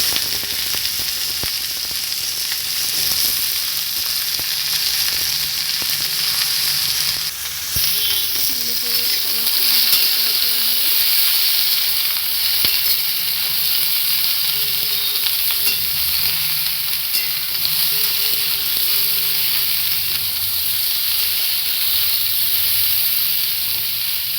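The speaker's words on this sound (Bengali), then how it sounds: "আমি ভালো করে ভেজে নেব" Ingredients fry steadily in a hot pan for a homemade rainy-day Bengali dish, a dense continuous sizzle with occasional stirring, close and loud, with faint speech in the background.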